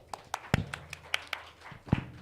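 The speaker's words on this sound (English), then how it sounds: "I will clap for you." Scattered hand claps at an entrepreneurship workshop, a sparse run of sharp, fairly close claps with a couple of louder strikes standing out.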